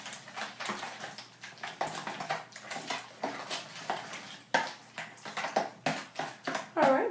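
Cheesecake filling being stirred by hand in a bowl, a steady run of scraping, clinking strokes repeating throughout, fairly close and moderately loud with no talk.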